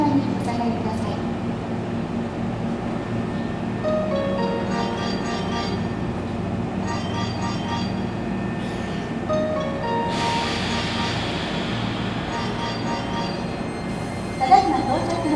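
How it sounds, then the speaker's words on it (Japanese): Hankyu Kyoto Line train arriving at Takatsuki-shi station, a steady rumble of rail cars rolling in with wheel squeal and clanking, loud and close along the platform, while a Japanese platform announcement plays over the noise. "皆様、まもなく淡路方面へ向かう電車が到着します。"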